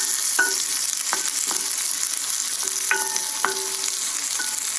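Sugar snap peas, red onion and tofu sizzling steadily in a pan, a constant close frying hiss with several sharp ticks and clinks from stirring scattered across it.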